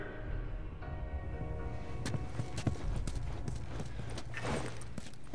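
Horse hooves clip-clop in The Last of Us, a steady run of hoof knocks over a continuous game ambience with a low hum, moderately loud and close, with no talk.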